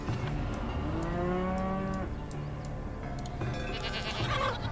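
Cows mooing from a farm building in the video game Farthest Frontier, a long drawn-out low moo followed by further lowing and bleating animal calls, fairly close and clear with no talking.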